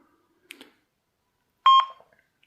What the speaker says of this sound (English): You hear that beep, and that means that the unit is connected